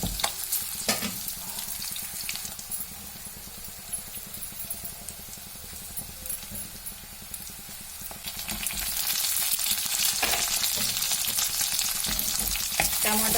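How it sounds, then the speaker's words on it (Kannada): Onion and tomato fry in oil in a pan, giving a soft, steady sizzle with stirring scrapes that grows louder and brighter toward the end. "ಒಂದು ಈರುಳ್ಳಿ ಫ್ರೈ ಮಾಡ್ಕೊತಾ ಇದ್ದೀನಿ, ಸ್ವಲ್ಪ ಎಣ್ಣೆ ಹಾಕಿ."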